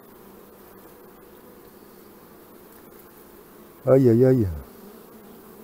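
Honeybees hum steadily around an opened hive, a close, continuous buzz, joined near the end by a short exclaiming voice.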